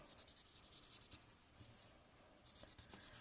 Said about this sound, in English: I'm just going to use the nib section.